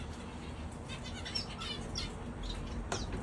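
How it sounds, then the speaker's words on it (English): Zebra finch and society finch fledglings in an aviary, with scattered faint high chirps and tweets over a steady background hum and no talking. "zebra finch fledgling that just fledged, and some society finch fledglings"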